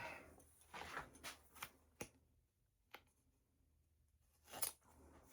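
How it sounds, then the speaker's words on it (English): Fish scissors snip at a clothing tag on a wool vest, a series of quiet close crisp cuts and rustles, several sharp clicks spaced irregularly with a louder snip near the end, no talking. "I'll use my fish scissors."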